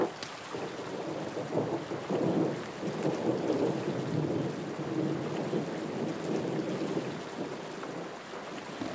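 A cartoon thunderstorm, heavy rain hissing steadily while low thunder rumbles and rolls through, swelling and easing over the span, with no talking.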